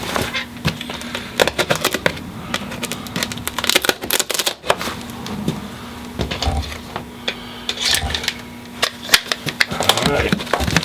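Tape being sliced and torn off a heavily taped package, with busy crackling, scraping and rustling bursts that keep up close throughout; a faint steady hum runs underneath.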